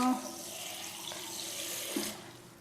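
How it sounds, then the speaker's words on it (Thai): Tap water runs steadily into a basin with a soft continuous splashing hiss, a faint click partway through. "เปิดน้ำใส่ อ่างนิดนึง"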